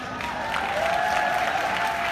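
Sustained applause from a corporate gathering honoring company leadership, a dense, steady patter of many hands clapping that holds evenly throughout, with a faint tonal hum running underneath.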